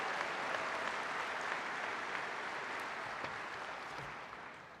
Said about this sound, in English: Let's give all of our Women of the Moose chapters a big round of applause.